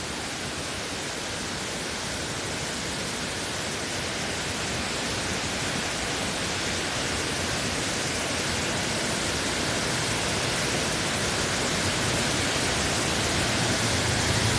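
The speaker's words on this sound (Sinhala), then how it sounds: "මේ ගල් මතු පිටින් තමයි මේ දිය ඇල්ල මේ විදිහට ගලාගෙන එන්නේ." A large waterfall pours over a long rock slab near Rakwana in Sri Lanka, a continuous loud roar of rushing water that stays steady throughout, with no voices.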